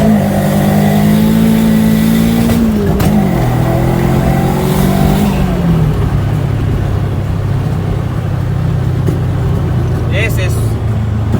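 A Proton Wira with a bolt-on turbocharged 4G15 engine and unequal headers accelerates hard, its engine droning and climbing in pitch, then dipping through a flat shift with the throttle held open, loud and close throughout, with a voice talking over it.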